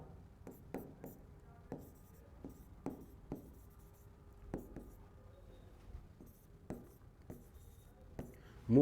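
Chalk or marker writing on a classroom board during a history lesson, a series of faint scratchy strokes in irregular bursts, fairly close, with no talk over it.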